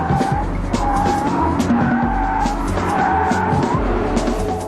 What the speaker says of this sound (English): With its stability control shut off, the rear-drive M5 offers some great drift.